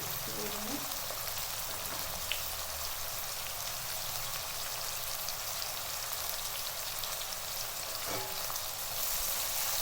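Sliced onions frying in oil with chili powder for vangibath, giving a steady, close, rain-like sizzle and crackle that runs throughout with occasional stirring clicks.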